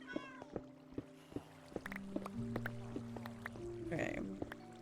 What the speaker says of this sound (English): Probably gonna have to move this cat into the hallway for the moment, just to make sure that the cat is not in harm's way